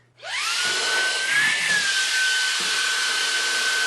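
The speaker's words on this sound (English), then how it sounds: "So this is a little vacuum and I'm gonna use it" A small handheld vacuum cleaner sucks up glitter. Its motor spins up to a high, steady whine, with faint rattles and bumps as it picks up debris close by.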